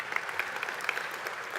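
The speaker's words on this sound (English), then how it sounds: "Could we give them a nice round of applause" Audience applause at a business breakfast gathering, a short burst of steady clapping from a roomful of people.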